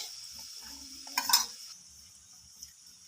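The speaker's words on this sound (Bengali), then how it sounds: "বাটির মধ্যে আমি কিছু মশলা মিশিয়ে নেবো এটা সয়া সস নিয়েছি এক চামচ" A spoon stirs soy sauce and spices together in a bowl in a home kitchen, giving one brief clinking scrape against the bowl amid quiet room tone.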